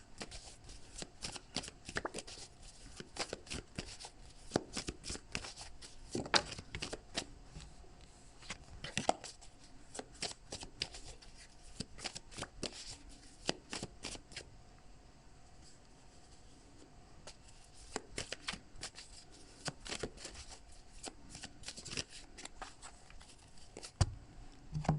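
Tarot cards are shuffled by hand for a reading, a steady stream of close, soft riffling and flicking bursts with brief pauses, continuing without talk.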